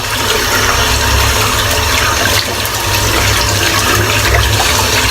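Tap water runs steadily into a sink while a shaving brush is rinsed out, a loud, continuous close splashing rush with no pauses.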